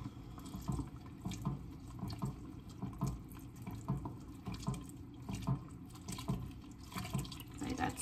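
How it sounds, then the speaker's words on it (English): Regular whole milk is poured slowly into a pot of corn chowder, a steady liquid splashing and trickling with soft periodic pulses, close and fairly quiet, with no talking. "So at this point, I want to add some milk."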